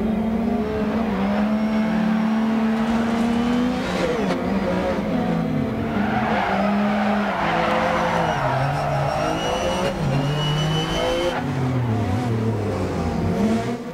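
An MG Metro 6R4 rally car in the video game DiRT Rally 2.0 revs hard and loud throughout, its engine pitch climbing and dropping through gear changes, with occasional tire noise and no voices.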